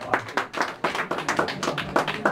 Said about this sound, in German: Applaus haben wir schon gehört.